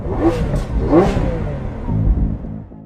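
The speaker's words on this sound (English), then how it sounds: "the amazing sounds from the engine" A Lamborghini Aventador LP700-4 engine revs up loudly in surging bursts, close by, with deep throaty rumbling between the peaks.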